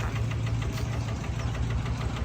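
A small single-cylinder walking tractor engine chugs steadily up close with a rapid, knocking rhythm and a low, rattling drone throughout.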